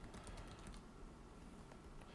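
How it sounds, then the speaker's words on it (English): Typing on a computer keyboard while entering code, a quick run of faint, close key clicks with no talking. "so now I need to type in this code again"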